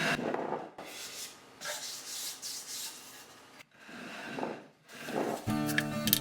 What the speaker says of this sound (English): For the table base, I'm going to start by scuff sanding.